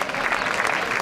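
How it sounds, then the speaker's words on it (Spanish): Dense, steady applause from an audience at an award ceremony for the Mayos contests, a continuous wash of many hands clapping with no gaps. "Ese fuerte aplauso."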